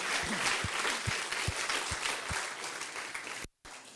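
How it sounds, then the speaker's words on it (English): An audience at a physics conference plenary session applauds a speaker with sustained, dense clapping and a few low thumps, then cuts off abruptly near the end. "let's give Steve another warm round of applause"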